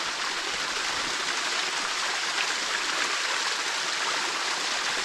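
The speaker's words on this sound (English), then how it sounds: "And a beautiful little waterfall." Carnes Cascade, a small waterfall on the Appalachian Trail, pours in a steady, dense hiss of rushing water, close and loud, unbroken from start to finish.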